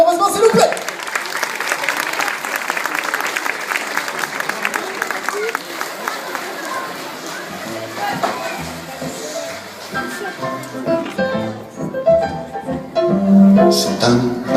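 An audience at a preschool class show applauds loudly and steadily for several seconds, then the clapping thins out as a sung children's tune with music takes over.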